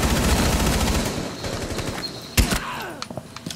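Rainbow Six Siege gunfire rattles in rapid automatic bursts, loud and dense at first, then thinning into scattered single shots and impacts.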